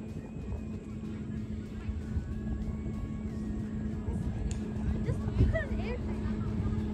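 A boat runs out on the water during a family Eid picnic at Croton, its low engine drone steady and somewhat distant beneath near voices and lively chatter, with a faint hum overhead.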